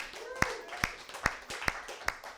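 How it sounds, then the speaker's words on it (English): Slow, evenly spaced hand claps, about five sharp strikes, lead an audience round of applause for a guest, with faint voices underneath. "So I'd like to just really quickly have a round of applause for Mark"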